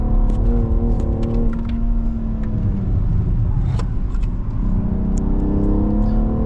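A BMW X4 M Competition on a track day pulls under throttle with a loud, close engine drone. Its tones rise and shift steadily as it accelerates, heard without any talking.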